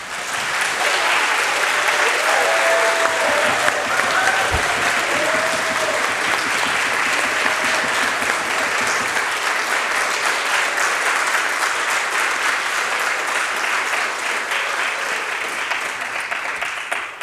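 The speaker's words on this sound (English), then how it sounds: "So let's have the students stand one more time for a final round of applause." At a fifth grade moving-up ceremony, a crowd gives students a final round of applause. Dense, loud applause holds steady for the whole stretch, with faint voices buried in it.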